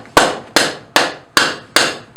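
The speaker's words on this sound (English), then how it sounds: "This is a wooden hammer." A wooden hammer strikes hot forged metal, bending a leaf around a blacksmith's jig in a steady series of six sharp, evenly spaced blows with short decays, close and loud with no talk.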